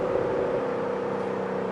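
A Corvette Grand Sport engine rumbles at a steady idle-to-cruising pitch, a continuous deep droning hum with no voices.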